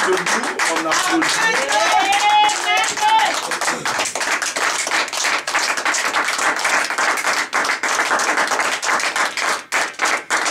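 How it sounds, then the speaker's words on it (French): A church congregation on its feet applauding, loud dense clapping throughout, with a voice calling out over it in the first few seconds before the clapping carries on steadily alone. "On se tient debout, on applaudit."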